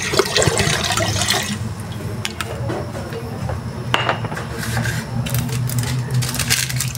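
Water pours steadily into a cooking pot for boiled tilapia, a continuous splashing rush with a few clinks of metal, loud and close with no talking.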